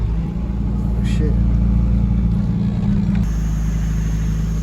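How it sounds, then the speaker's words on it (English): A car being parked, its engine giving a loud, steady low rumble from inside the cabin that holds level throughout, with a brief sharper mechanical click partway through. "I'm parking the car."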